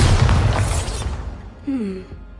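A Bombarda spell blast in Hogwarts Legacy: a loud, broadband booming burst that fills the first second and then decays into a rumbling tail, with a brief voice-like tone toward the end.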